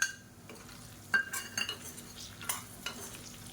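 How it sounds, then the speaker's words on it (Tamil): Brinjal and masala sautéing in oil for a catering-style kathirikai kuzhambu, with a spatula stirring and clinking against the pan over a soft sizzle. A few sharp scrapes stand out, and no one talks. "இப்போ இந்த எண்ணெயிலே நல்லா வதக்கி விட்டுருக்கோம்."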